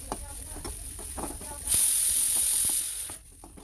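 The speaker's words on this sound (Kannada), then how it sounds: "ಮೀಡಿಯಂ ಫ್ಲೇಮಲ್ಲಿ ಇಟ್ಕೊಂಡು" Onion, green chilli and ginger frying in a little oil in a pan on medium flame: a close, continuous sizzle with soft stirring scrapes, swelling louder midway and then easing off.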